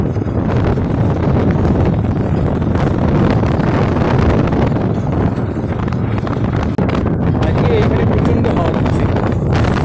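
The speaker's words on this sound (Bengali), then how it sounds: "এইরকম হাওয়া আমি গুরুদঙ্গরে গিয়ে পেয়েছিলাম" Strong wind buffets the microphone on a mountain road between Bhalukpong and Dirang in Arunachal Pradesh. It makes a loud, constant roar of rushing air with gusty rumble that fills the whole stretch.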